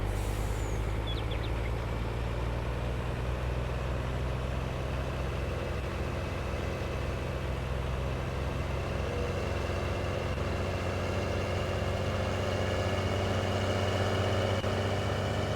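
A grain truck's engine in Farming Simulator 19, a steady low heavy drone with a constant whining tone, continuous and close, driving at speed without letup.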